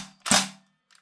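A single sharp gas-powered crack from a Northeast Airsoft MP2A1 gas blowback rifle running on CO2, loud and close, followed by a faint mechanical clatter as the bolt settles.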